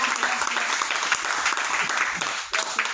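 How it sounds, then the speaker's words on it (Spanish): A church congregation gives applause to the Lord during a Spanish-language service, several seconds of steady clapping that briefly dips near the end before resuming. "Y ahora del otro aplauso al Señor."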